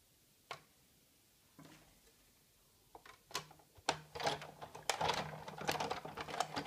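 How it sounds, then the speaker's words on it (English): Big Shot die cutting machine cutting tree shapes with a framelit die, a few sparse clicks at first, then a denser burst of close crunching and rattling near the end. "So I'll die cut the 3 trees out."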